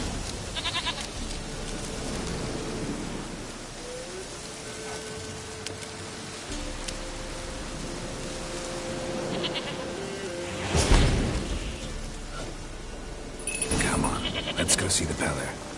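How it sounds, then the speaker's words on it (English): Goat bleats in The Witcher 3, a few short bleats over steady ambient game sound with light rain-like hiss, while a voice talks across the clip. "Here, goat."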